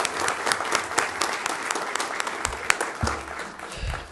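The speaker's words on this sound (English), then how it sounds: "Please join me in a round of applause for their innovation and for their teaching." Applause rises from an audience honoring classroom mini grant award winners at a Wichita Public Schools event, a moderate, fairly distant patter of clapping hands with a few sharper individual claps.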